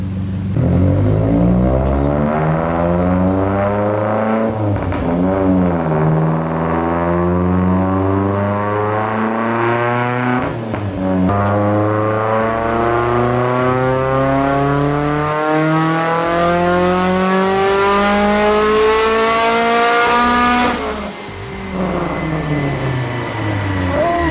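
A loud, tuned Mitsubishi Evo engine revs steadily upward on a dyno for over twenty seconds, pitch climbing with a throaty, harmonic-rich roar before briefly dropping near the end.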